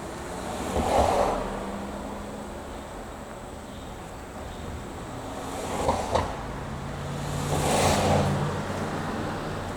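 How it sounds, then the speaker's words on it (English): Cars pass on a busy back road near Bardstown, three swelling whooshes rising and fading at moderate distance over a steady outdoor hum, with no talk. "What is up with this street and all Crazy, this traffic?"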